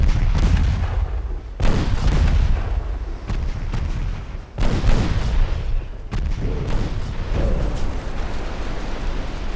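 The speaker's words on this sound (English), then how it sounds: "There we go, torpedoes launching." Torpedoes launching from warships in Ultimate Admiral Dreadnoughts, set in an 1896 French naval campaign: a series of heavy booming launches, loud and close, each a deep thump followed by a rumbling tail, arriving in spaced bursts.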